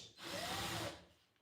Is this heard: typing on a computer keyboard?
no